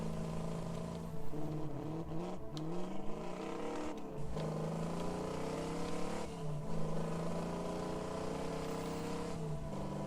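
Steady engine drone from a racing car in Second Life, harmonic tones rising and dipping as it accelerates and shifts, continuous and fairly loud with no talking.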